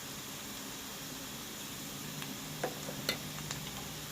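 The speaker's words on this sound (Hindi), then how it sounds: "इनको हिलाएंगे अच्छी तरह से" Turmeric, black pepper and coriander powder being stirred in a pan, a faint low sizzle under a few light scraping and clicking touches of a spoon against the metal, quiet and close.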